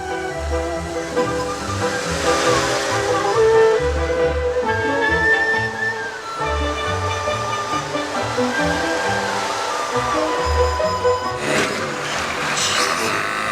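A steady rush of fast-moving water roars continuously, with music playing over it and a voice speaking at times.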